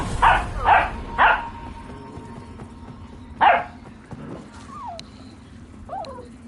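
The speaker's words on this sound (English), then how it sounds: "My puppies are being kind of loud." Puppies barking indoors, three quick yaps in a row, then a pause and a fourth bark, with faint whines and a chirpy bird-like squeak afterward over low background hum.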